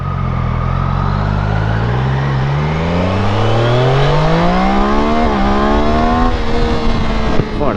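A Triumph Daytona 660 motorcycle engine revs hard and climbs through the gears, a loud, close, rising howl with brief dips at each shift, sustained high revs near the end.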